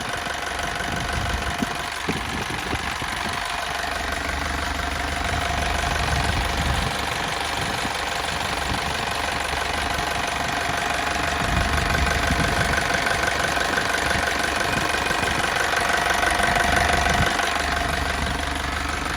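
The 130 hp engine of an Isuzu NPR truck idles steadily and loudly up close, a continuous low mechanical rumble with a faint rhythmic knock, running alone without any voices.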